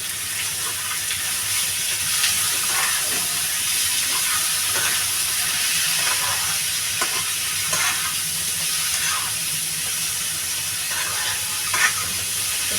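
Cut potatoes for a Bengali-style samosa filling fry in a pan with a steady, broad sizzling hiss and the occasional soft scrape of stirring, with no voices.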